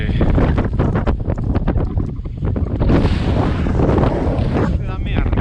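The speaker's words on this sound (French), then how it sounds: "Tempête de vent, pluie, grésil, la grêle." Storm wind with rain, sleet and hail roars and buffets the microphone on Le Trélod mountain. The gusts are loud and constant throughout and swell further midway.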